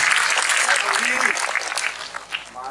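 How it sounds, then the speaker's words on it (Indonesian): An audience bursts into loud, sustained applause at a gathering, dense clapping filling the whole moment with voices faintly underneath. "Monggo lagi tepuk tangan untuk Pak Budi"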